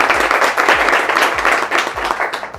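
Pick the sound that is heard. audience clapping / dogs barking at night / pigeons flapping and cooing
audience clapping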